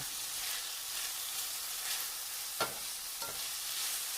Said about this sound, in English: A little salt and a little pepper goes in, and give it a stir.